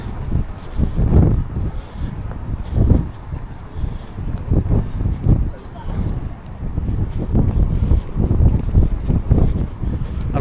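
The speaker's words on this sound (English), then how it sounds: "Oh, it's windy again." Gusty wind buffeting the microphone outdoors in Sheffield city centre near a food festival, loud rumbling bursts rising and falling across the whole stretch.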